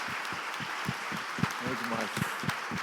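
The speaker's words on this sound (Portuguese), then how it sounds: "vamos aplaudir esse casal maravilhoso aqui" A live audience at a Brazilian Christian Q&A event claps for a couple in a steady rhythm of evenly spaced beats, with a voice talking over the clapping.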